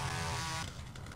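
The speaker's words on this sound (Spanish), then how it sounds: "A estas alturas una motosierra." Chainsaw in the video game Quake II: Ground Zero, a brief buzzing motor whir that cuts off sharply after half a second, faint and alone.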